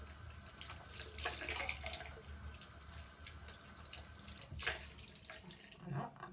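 Tap water running into a bathroom sink while a face is rinsed, a soft steady splash with faint splashes from the hands, quiet and close.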